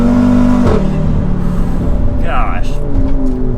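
Built big-turbo 800 HP Audi RS3 engine revving in dynamic mode, a loud, steady engine drone with a sharp change in tone partway through, while a person talks over it.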